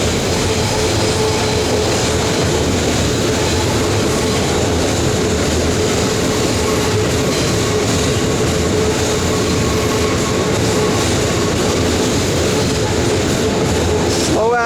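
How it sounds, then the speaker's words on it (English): Train passing close by near Shinagawa Station in Japan, a loud continuous rumble and rattle of rail cars that fills the whole stretch, with a faint voice underneath. "Slow ass train, too."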